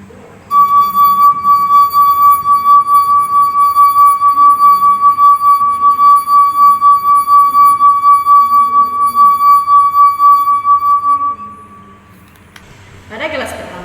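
A sustained, loud, pure ringing tone from a glass about one quarter full of water, excited by fingers rubbing around its rim, holding steady for about eleven seconds before stopping, followed by a brief rustle.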